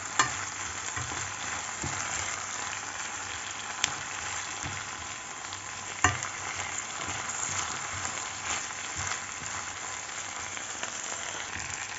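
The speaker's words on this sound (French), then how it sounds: "je les ajoute dans l'oignon, mélange oignon-ail. On laisse bien dorer quelques instants, que ça cuise bien." Chopped onion and garlic frying in a pan for an Indian tamarind sauce, giving a steady, close hiss and sizzle with an occasional faint clink of stirring and no talk.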